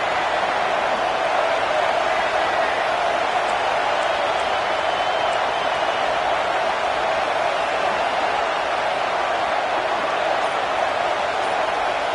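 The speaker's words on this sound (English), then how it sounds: "This crowd bringing the energy and noise early." Steady roar of a large college football stadium crowd, dense and continuous throughout, with no distinct peaks or breaks.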